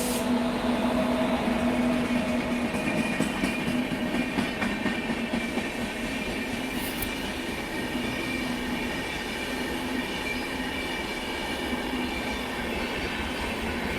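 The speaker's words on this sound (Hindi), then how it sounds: "ये जाएगी नई दिल्ली, हावड़ा नई दिल्ली पूर्वा एक्सप्रेस" The Howrah–New Delhi Poorva Express rolls past close by in a steady, loud rumble of wheels on rails, with rhythmic clatter and occasional squeal sustained throughout.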